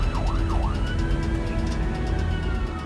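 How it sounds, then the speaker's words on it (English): A loud wailing siren from an Australian ambulance responding to an emergency rises and falls in quick cycles over steady engine rumble, close by. "So we're just going to put the sirens on to make people move out of our way."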